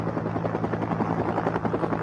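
A helicopter flies over a glacier, its rotor giving a loud, continuous rhythmic chop close by, with a steady engine hum underneath and no voices.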